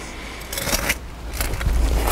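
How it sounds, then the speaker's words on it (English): Turf grass is cut away in a garden bed beneath paving slabs, giving a few close, crisp snipping and tearing bursts in quick succession with no talking. "so now I just need to cut the grass away from below them"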